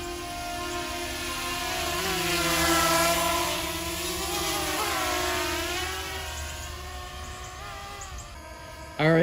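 A Bwine F7 Mini drone flying outdoors near Lake Michigan, a continuous buzzing propeller whine that rises and falls in pitch as it hovers, moderately loud throughout.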